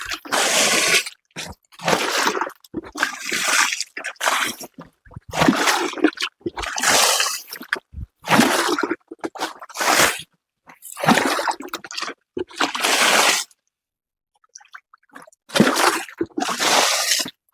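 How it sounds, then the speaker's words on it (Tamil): Water poured by hand in bursts around the base of a banana plant, splashing and splattering onto soil in repeated close pours with brief pauses between them. "தண்ணி ஊற்றி காட்டுறேன் பாருங்க."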